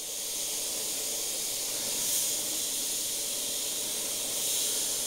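Airbrush with a fine 0.3 needle nozzle spraying a continuous stream of air, a steady close hiss with slight swells, no talking.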